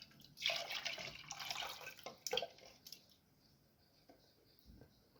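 Liquid poured into a gratin dish with garlic pieces, a splashy, dripping pour that rises quickly, trails off into faint drips and ends with a small clink, close and alone.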